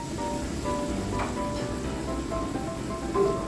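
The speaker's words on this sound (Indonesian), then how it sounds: "Selanjutnya saya masukkan brokoli yang sudah saya rebus tadi ya teman-teman." Boiled broccoli goes into a stir-fry pan and sizzles, a soft continuous crackle and hiss of frying with faint clinks, fairly quiet and close.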